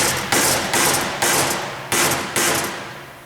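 A hammer pounds on the sheared heads of broken bolts while Plategrip is installed, five loud metallic strikes spaced irregularly, each ringing and fading before the next.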